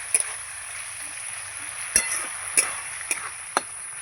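Hilsa fish curry with raw pumpkin being stirred in a pan, spoon taps and scrapes landing every half second or so over a soft, steady sizzle, with no voices.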